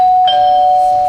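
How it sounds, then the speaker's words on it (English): A front doorbell during a stage play, a steady electronic ding tone ringing loud and close for about a second, alone without talk. "The front doorbell, Featherstone."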